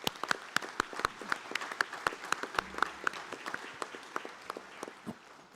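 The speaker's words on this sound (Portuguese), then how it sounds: "A todos, uma calorosa salva de palmas." Scattered clapping from the audience at a formal solemn session of a Brazilian legislative chamber, with distinct individual claps at an uneven rhythm, moderately near, tapering off toward the end.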